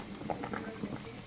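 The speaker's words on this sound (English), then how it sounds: "I have a pot of boiling water here" A pot of water for lasagna noodles boils on the stove, giving a soft, close bubbling with small irregular pops and gurgles over a faint background hum.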